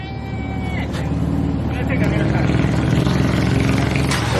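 A Dodge Charger RT, running an E85 tune, makes a first start attempt: a steady low engine rumble fills the whole stretch, fairly loud and close, with people talking over it.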